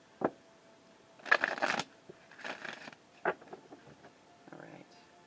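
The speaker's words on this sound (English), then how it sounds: "I'll do another shuffle here." A deck of oracle cards is shuffled in several short riffling bursts with pauses between them, close and fairly quiet.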